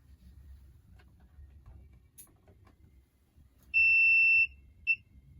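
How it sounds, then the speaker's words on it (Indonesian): A thesis test device's buzzer sounds as it is switched on: one steady high electronic beep lasting under a second, then a shorter second beep, over a faint low background hum. "Jika alat sudah aktif, buzzer akan berbunyi"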